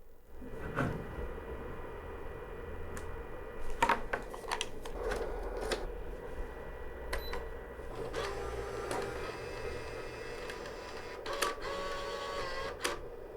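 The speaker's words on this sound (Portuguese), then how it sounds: "o dispositivo é uma impressora fotográfica Olympus Camellia P330" An Olympus Camellia P330 photo printer runs a print job, a steady mechanical whir with repeated clicks and clunks as the paper feeds and shifts, close and continuous for about thirteen seconds.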